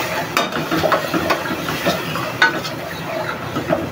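Spices (red chilli powder, turmeric, vegetable masala) being stirred into black masoor dal in a pan, with soft scraping strokes and a low sizzle running steadily throughout, close and moderately loud.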